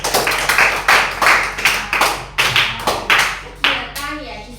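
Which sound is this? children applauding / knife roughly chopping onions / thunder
children applauding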